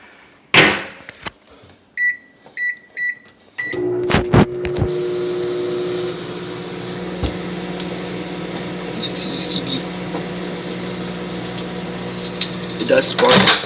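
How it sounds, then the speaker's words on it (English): A running microwave oven hums steadily after a door thud and a run of short beeps, with crackling bursts from a regular CD and an Xbox 360 game disc sparking inside, close and fairly loud. "Let's microwave these CDs."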